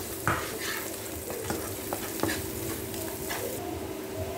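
Ingredients for pancit seasoned with black pepper and Himalayan salt sautéing in a pan, a close, steady sizzle punctuated by a few distinct clacks of a utensil against the pan.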